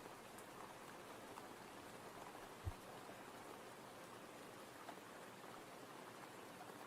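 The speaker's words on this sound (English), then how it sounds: "It's just the rain sound effect now." Steady rain sound effect playing alone on a livestream after the music cut out, a soft, even hiss of falling drops with one brief low thump partway through.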